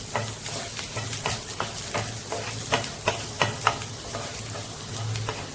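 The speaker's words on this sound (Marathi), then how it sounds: "लसूण इथे परतून झालेली आहे" Ten to twelve finely chopped garlic cloves fry in oil over a low flame, a soft steady sizzle broken by repeated scraping stirs of a spoon in the pan, fairly faint and close.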